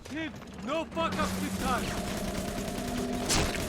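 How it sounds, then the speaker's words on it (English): A machine gun fires in the video game Bioshock 2, giving a slow run of repeated bursts of mid-distance gunfire. Tonal, voice-like game sounds come in over the start. "I've got a machine gun."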